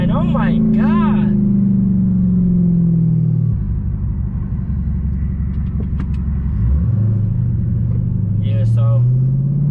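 A Dodge Charger Hellcat at speed gives off a loud rising and falling supercharger whine over a heavy engine rumble, with pitch sweeping through shifts and revving, and a voice talking briefly over it.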